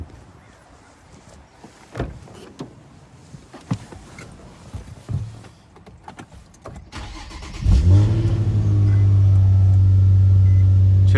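Infiniti G35 with a check engine light and P0174 code starts up after a few clicks and handling knocks, the engine catching abruptly and settling into a loud, steady idle.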